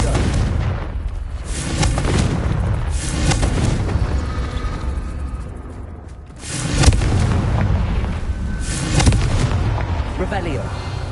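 Confringo fire spells cast over and over in Hogwarts Legacy during the Merlin trials, heard as loud, rumbling bursts, one surging up around the middle and another near the end, over a constant bed of game noise.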